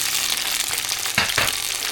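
Onion and tomato are stir-fried with garlic in a hot pan for a bitter melon and egg dish, a steady sizzle with a couple of louder bursts as food is tossed and mixed, close up, no voices.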